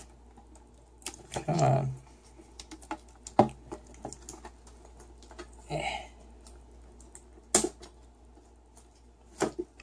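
A sealed Pokémon card tin is opened by hand, giving scattered bursts of scraping, crinkling and clicking against quiet, with a brief spoken remark.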